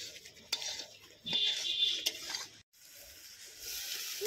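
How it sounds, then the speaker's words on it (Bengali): Meat masala being sautéed in a pot, faint sizzling with occasional knocks and scrapes of a ladle, quiet and a little distant, with a brief drop to near silence partway through. "আজকে মশলাটা কষানো হচ্ছে।"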